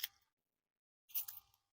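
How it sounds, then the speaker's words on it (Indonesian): Two short hissing sprays from a bottle of Vitalis Eau De Royale perfume, close and fairly quiet, separated by about a second of silence. "Sekali lagi aku semprotkan."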